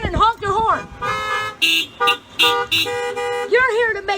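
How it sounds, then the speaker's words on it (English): Car horns honk one after another at an outdoor drive-in gathering, loud, close toots and longer blasts of varied pitch in irregular bursts, with a voice briefly heard between them. "raise your hand and honk your horn"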